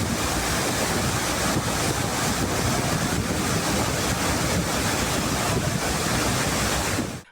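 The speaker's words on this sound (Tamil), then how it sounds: "மெயின் அருவியே அடையாளம் தெரியாத அளவுக்கு செந்நிறத்தில் வெள்ள நீர் பெருக்கெடுத்த காட்சி மிரட்சியை ஏற்படுத்தியது." Floodwater torrent roaring down the main Courtallam waterfall, red with silt and swollen by a flash flood, a loud, dense, continuous rushing roar with no gaps, cutting off abruptly at the end.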